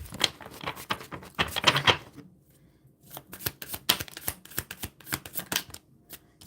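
Tarot cards are shuffled briskly in two bursts of fluttering riffles, separated by a brief pause, close and clear with no talking.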